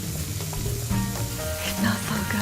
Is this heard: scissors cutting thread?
no